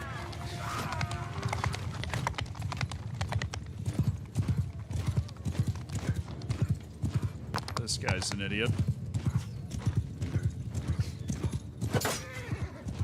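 Horses in a video game gallop with rapid, continuous hoofbeats and let out several loud whinnies, close and busy, while a player talks over the action.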